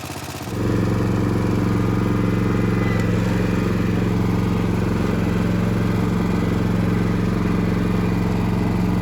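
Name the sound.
John Deere 300 lawn tractor engine running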